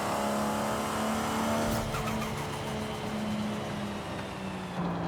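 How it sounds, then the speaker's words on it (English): Twin-turbo car engine in Forza Horizon 5, a restored barn find, revving hard with a loud, steady whine rising and holding near, joined by tire squeal and road noise, no voices. "Listen to that turbo spooling up."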